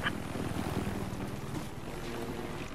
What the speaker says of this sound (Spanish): viene el helicóptero,